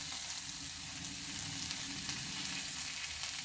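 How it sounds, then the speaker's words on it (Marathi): Vegetables sautéing with garlic in a pan for finger millet soup, a steady close hiss and sizzle with faint stirring and no talking. "आपल्या भाज्या छान फ्राय झालेल्या आहे. आता यामध्ये आपण लसूण घालून घेऊया."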